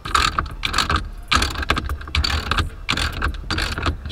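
Ratchet tightening down a car's steering wheel nut, rapid repeated clicking in short bursts with brief pauses between strokes, close and fairly loud.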